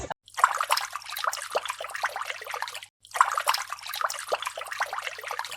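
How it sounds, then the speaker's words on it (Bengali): Water from a mountain spring pours down in a steady, close splashing rush, heard in two long bursts separated by a brief pause. "চাচা ঝর্ণার পানি পড়তে আছে।"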